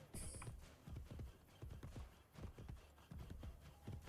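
In the video game Assassin's Creed, a horse's hooves clip-clop in a quick, uneven rhythm, fairly close and quiet, with a brief high hiss near the start.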